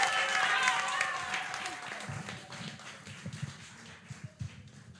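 Audience clapping at a talk event fades out after a couple of seconds, leaving a few scattered claps and quiet room noise; a voice speaks over the start.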